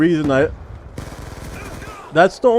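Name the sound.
gunfire from a gun in the Call of Duty Black Ops 2 video game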